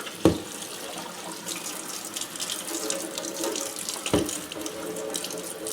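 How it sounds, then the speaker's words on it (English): Warm tap water runs into a sink while a glass jar is rinsed, a soft steady hiss broken by two sharp clunks of the jar. "And then you can just rinse it off with warm water and soap."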